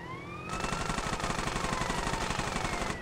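Rapid automatic gunfire in GTA San Andreas Definitive Edition, a dense steady burst of shots lasting several seconds, loud and close, with a wailing police siren in the background.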